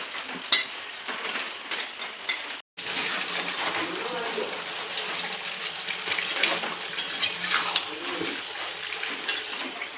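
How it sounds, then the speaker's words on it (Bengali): Potatoes go into a pan of frying Bengali chicken curry and get stirred, with steady sizzling and scraping of a spoon against the pot, under occasional talk. "এখন আমি আলু দেব সবজিতে।"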